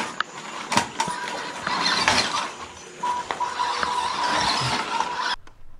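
An MN Model MN82 RC car on new tires runs nearby, its small electric motor whining steadily with squeals and skidding scuffs and a few sharp knocks, continuous for about five seconds before cutting off.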